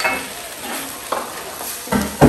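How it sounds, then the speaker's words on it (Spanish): A tortilla cooks in a pan with a soft, steady sizzle, punctuated by a few brief scraping and clinking touches of a utensil, close by. "Y vamos a esperar que se cocine la tortilla."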